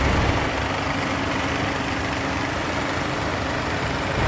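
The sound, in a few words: Case VAC tractor engine idling in parade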